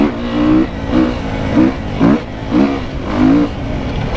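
A Beta Enduro RR 390 four-stroke enduro motorcycle engine from 2017 revs repeatedly, rising and falling in about five throttle blips over a steady running drone, loud and close, with no talk.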